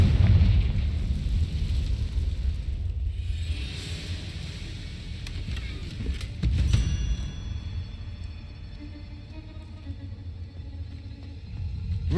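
A Confringo fire spell blast in Hogwarts Legacy, a deep rumbling explosion that rolls on and fades, with a second thud midway and lingering low crackle afterward.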